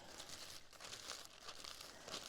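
Plastic bag being pulled off strawberry plants, crinkling and rustling up close in a quiet, continuous stretch with no talk.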